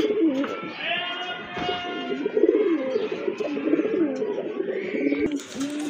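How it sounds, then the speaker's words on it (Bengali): Pigeons for sale, including paired birds of different breeds, coo repeatedly in soft low rolling calls, close by, with a few faint chirps and light background noise. "এই যে দেখেন আরেক জোড়া কবুতর।"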